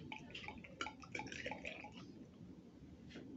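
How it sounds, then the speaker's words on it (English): Sodium hydroxide solution is poured slowly into a laboratory burette during an acid-base titration, giving faint trickling and dripping liquid sounds with small glassy clinks over a quiet room. "go ahead and pour some in slow amounts until we get nearer to the top of our burette."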